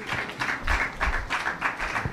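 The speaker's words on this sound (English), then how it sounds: "You should clap for him." An audience at a church gathering claps in a brief, rhythmic burst of applause, several pulses of hand claps sounding fairly close and full for about two seconds.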